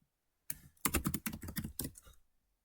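A computer keyboard is typed on in a short, close burst of rapid clicking keystrokes while HTML code is written. It lasts about two seconds and ends in silence.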